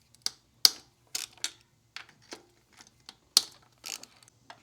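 A 1/2-inch-drive ratchet with an extension and a 17 mm socket works on throttle-body bolts in short bursts of sharp, close pawl clicks separated by brief pauses.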